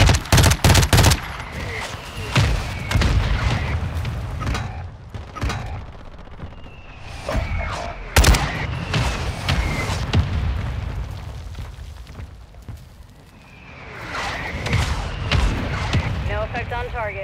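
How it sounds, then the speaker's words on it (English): A mortar strike in Call of Duty: Modern Warfare II, with repeated heavy blasts and rattling gunfire bursts scattered across a chaotic battlefield, some loud and close, with radio voices talking between impacts. "Mortar support incoming!"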